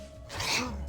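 A video game character in Deltarune Chapter 3 gives a single short sneeze, quiet and quick.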